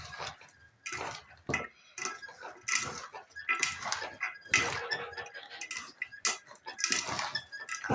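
Raw meat being mixed by hand in a bowl with grape vinegar marinade for basturma kebab, giving repeated wet squelches and light clinks of the dish in an irregular rhythm, close and fairly quiet.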